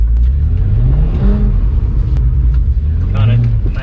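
Engine of a BMW 135i with an open differential revving and rising in pitch while drifting on a slippery skid pan, loud and close from inside the car, with someone talking over it.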